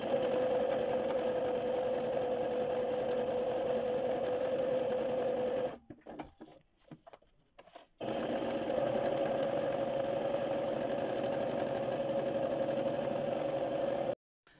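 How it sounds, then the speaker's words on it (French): A sewing machine runs steadily, stitching a seam around a handbag pocket with a close, even mechanical hum. It stops briefly midway, restarts and runs on until it cuts off near the end. "on va venir faire une couture donc tout autour comme ça à 1 cm du bord"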